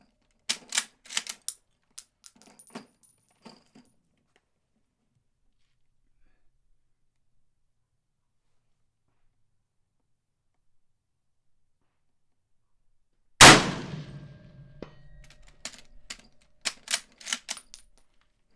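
A Mosin Nagant rifle fires at a steel plate target: one sudden loud crack with a ringing, decaying tail, set between quiet gaps and bursts of sharp mechanical clicks before and after. No one speaks.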